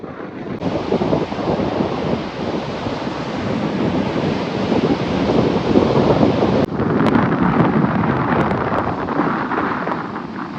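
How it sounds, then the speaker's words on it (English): Strong wind buffeting the microphone on a lakeshore beach with blowing sand, a loud, continuous roaring rumble with surf-like noise that barely lets up. "Here it's difficult to hear what I'm saying because of the wind"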